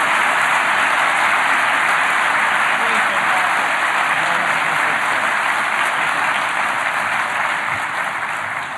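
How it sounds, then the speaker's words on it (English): Audience applause after a cybersecurity keynote at the Black Hat USA 2014 conference: dense, steady clapping from a large crowd that fills the hall evenly and tapers only slightly near the end. "Let's give Dan another round of applause."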